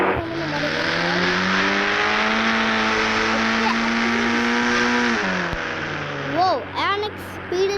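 A car speeds in with a loud, steady engine drone that slowly rises in pitch for about five seconds, then drops away, and a voice comes in at the end.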